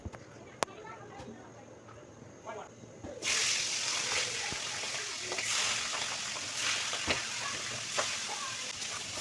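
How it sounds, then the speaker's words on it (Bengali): Fish heads rubbed with turmeric and salt go into hot oil in a wok: a quiet moment with a sharp click, then a loud, continuous sizzle bursts in and holds steady. "এরপর আমি কড়াইতে তেল দিয়ে ভালো করে মাছের মাথাগুলো ভেজে নিব।"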